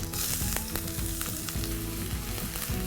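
Ginger, garlic and green chili frying in a hot pan on full gas, a dense, continuous close sizzle with light stirring scrapes throughout.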